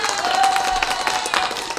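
An audience applauds at a talk on trading psychology, a steady, full round of clapping from a crowd of many hands.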